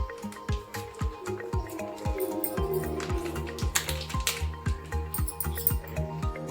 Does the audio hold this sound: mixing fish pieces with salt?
yes